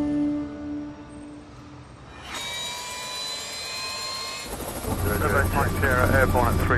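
An air ambulance helicopter carries a trauma team, its engine whine and rotor thrum rising steadily and getting louder near the end, with brief voices faintly underneath.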